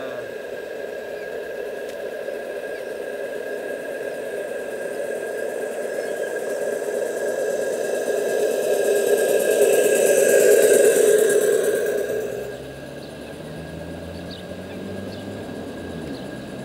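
A small model steam boat engine runs steadily with a humming, whirring drone that swells louder toward the middle, then drops back to a lower, quieter idle.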